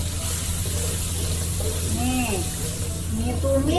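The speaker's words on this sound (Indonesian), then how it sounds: "Tumis bumbunya ya" Spice paste for kikil balado hisses and sizzles steadily in hot oil with tomato, a continuous close frying noise over a low hum while someone talks over it.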